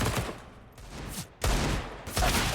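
Counter-Strike pre-fire gunfire on the Mirage map, rapid automatic bursts crackling in several clustered volleys, loud and close with no talk over them.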